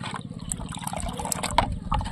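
Granular fertilizer stirred into about half a litre of water for feeding rose plants, giving a close, continuous watery swirl and trickle with light sloshing throughout.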